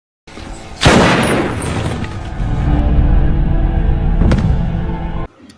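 A gunshot in a film scene where a policeman shoots a driver in the head: a loud, sharp blast followed by a sustained heavy rumble and a second bang near the end.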